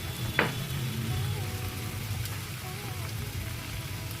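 Chicken sizzles and fries in a pan as turmeric, chilli powder and other spices are added, a steady close hiss with a brief sharp clatter near the start.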